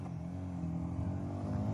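A motorcycle engine hums steadily and begins to rise in pitch as it accelerates, heard up close at moderate volume.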